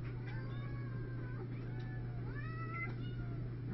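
A cat meows several times in a quiet indoor room, with drawn-out rising and falling cries over a constant low hum.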